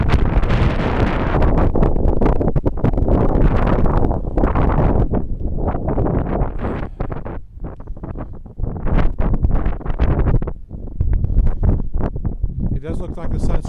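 Strong gusting wind buffets the microphone at a double stone arch bridge over a creek, a loud, continuous roar that surges and dips with brief lulls throughout.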